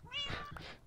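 A cat mob in Minecraft meows once, a near, clear in-game call with a rising and falling tone lasting under a second.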